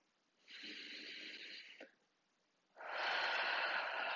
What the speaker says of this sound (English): let's take a deep breath here